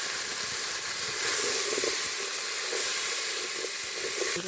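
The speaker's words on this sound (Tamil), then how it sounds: "கருவேப்பிலை போட்டு தக்காளி போட்டு நல்லா வதக்குறோம்" Curry leaves and tomatoes sauté in a pan for mutton trotter soup, giving a steady, close hiss and sizzle with faint stirring scrapes and no talking.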